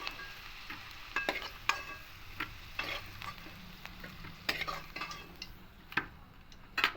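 Potato pieces fry in hot oil in a pan with a soft steady sizzle while a metal utensil stirs and lifts them, sharp scraping clinks recurring close by.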